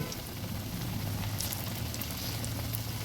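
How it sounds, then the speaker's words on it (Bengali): Cabbage pakoras crackle and sizzle steadily in hot oil, a dense, even hiss of frying with no voices, sounding close and continuous throughout. "এভাবে আস্তে আস্তে আমি সবগুলো পকোড়া ভেজে নেব"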